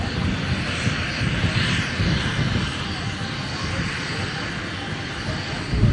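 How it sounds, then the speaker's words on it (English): A Fowler steam ploughing engine built by John Fowler of Leeds rumbles steadily as it enters the arena at a vintage steam rally, a continuous loud mechanical roar with outdoor crowd ambience. "We have got another engine that's just coming into the arena, it being another Fowler made by John Fowler's of Leeds at the Steam Plow Works."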